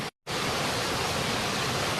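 Water pours down a waterfall used for bathing in a continuous loud, broad roar, with a brief cut at the very start before the steady rush resumes.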